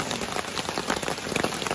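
Fairly heavy rain pours steadily onto a campsite, a dense, even hiss of drops with no gaps, close and loud throughout.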